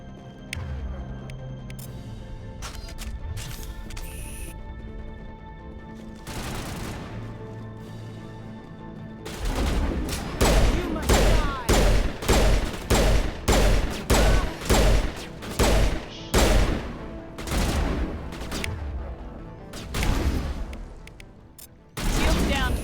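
Gunfire from weapons in the video game Mass Effect: Legendary Edition, with game sounds and effects at first, then a run of loud, rapid repeated shots in bursts, with speech mixed in.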